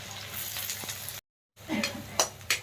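Onions stirred in a hot pan with green chillies and curry leaves, a steady sizzle and scraping broken by a brief silent gap, then louder spoon scrapes and clinks near the end.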